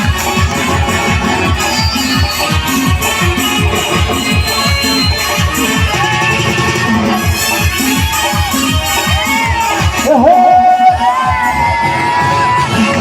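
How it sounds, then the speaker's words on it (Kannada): Audience cheering and yelling at a live Kannada folk song performance, a dense, loud crowd roar with rhythmic claps and whoops that runs continuously through the whole stretch. "ಬನ್ನಿ ಅವರ ಚಪ್ಪಾಳೆ."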